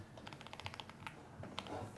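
Quiet clicking keystrokes on a computer keyboard, a quick irregular burst of taps with short pauses, faint and close, no voices.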